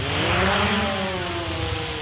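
A small military drone buzzes in flight, a steady, loud, close motor whine with a slowly shifting pitch and no voices over it.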